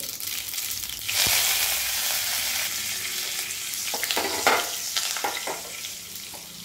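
Mustard seeds, cumin, asafoetida and curry leaves hit hot oil with a loud burst of sizzling that settles into a steady crackle, with a few sharp pops and stirring clinks, close up and without speech.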